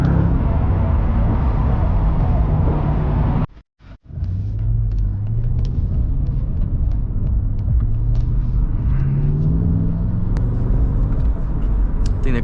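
A 500 HP Mercedes-AMG convertible driven with the top down, its engine giving a loud, steady low rumble with wind and road noise, cut briefly by a short dropout before the cruising drone returns with rising revs.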